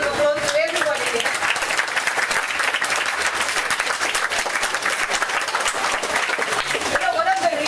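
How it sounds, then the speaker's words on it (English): A big round of applause from the audience at the closing of a Fijian health ministry school programme, Healthy Learner, Healthy Fiji: dense, continuous clapping from a crowd that stays loud and steady, with a voice briefly audible at the edges. "can we put a big round of applause to everybody here?"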